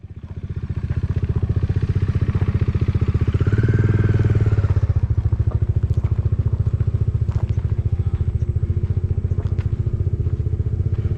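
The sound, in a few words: motorcycle being moved off ferry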